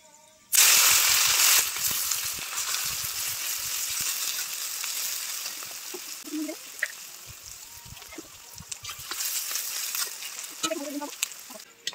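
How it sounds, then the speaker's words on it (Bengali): Onion paste and whole spices hit a hot pan with a loud burst of sizzling, which settles into a steady fry with occasional stirring scrapes and clinks. "তো পেঁয়াজটা ভাজা হয়ে গেছে"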